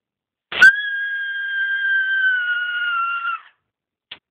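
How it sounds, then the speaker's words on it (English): A person sings in whistle register: one very high, steady sustained tone lasting about three seconds, loud and alone with no accompaniment, followed by a brief faint chirp. "That's whistle voice."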